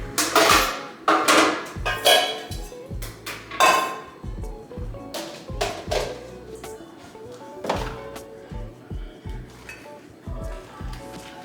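Dishes, pots and pans knock and clink during kitchen cleanup, a loud irregular series of hard thunks and clatters, with heavier bursts early that settle into lighter scattered knocks.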